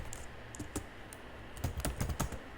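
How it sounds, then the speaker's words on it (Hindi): Names being typed on a computer keyboard, quiet rapid key clicks in uneven bursts, sparse at first and then denser toward the end, close and alone with no talking. "अब इसमें मैं कुछ नेम्स टाइप कर देता हूँ"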